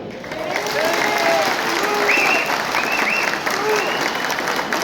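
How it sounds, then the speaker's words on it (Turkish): Wedding guests at a civil marriage ceremony applaud together as witnesses, a dense, continuous round of clapping with a few faint cheers and voices scattered over it. "Alkışlarınızdan bildirin"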